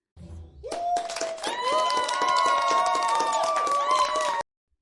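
A group of children clap and cheer, with bright sustained cheering voices over a rapid patter of many small hands, loud and continuous for about four seconds before cutting off abruptly.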